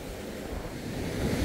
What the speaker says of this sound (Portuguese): do lado direito tá o Oceano Atlântico